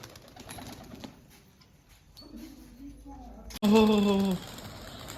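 Pigeons coo nearby, ending in a loud, close burst of throaty cooing, with low voices and soft rustling earlier.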